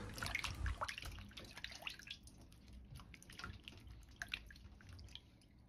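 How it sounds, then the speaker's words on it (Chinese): Peeled celtuce stem lettuce being washed in water, with close irregular splashes, drips and sloshing bursts, no voices. "再放入水中清洗乾淨"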